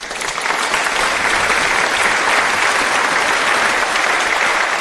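A crowd at a birthday celebration applauds as Chen Lao is welcomed onto the stage, a dense, steady wash of clapping that stays loud and even throughout with no talking over it.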